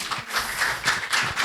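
An audience claps after a presentation on fractional CO2 laser acne scar treatment, a short burst of steady, fairly loud applause with no voices over it.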